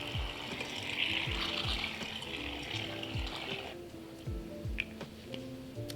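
Liquid is poured on top of shaving cream in a kids' rain-cloud craft: a steady, faint hissing trickle runs for about four seconds, then stops, leaving a quiet room with small clicks.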